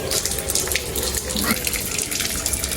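Tap water gushes steadily into a sink while mint leaves are washed for juice, a constant close splashing with a voice speaking over it.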